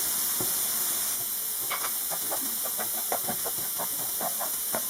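Sugar with honey caramelizing in a hot pan, a steady loud hiss and sizzle with scattered small crackles and pops throughout, close up and with no talk.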